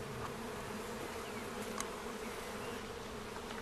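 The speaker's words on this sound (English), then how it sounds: "the bees are shaken onto a sheet of plastic" Honey bees shaken onto a plastic sheet fill the air with a dense, steady buzzing hum, constant and close throughout, with a faint brief tap near the middle.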